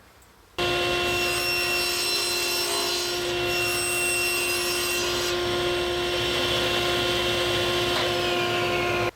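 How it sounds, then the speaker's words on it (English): A table saw cuts the peak of a wooden advent calendar with a miter fence, its loud, steady whine with sharp tonal harmonics running almost the whole clip after an abrupt start, ending just as abruptly. "we'll take it over to the table saw. Using our miter fence, we will cut the peak."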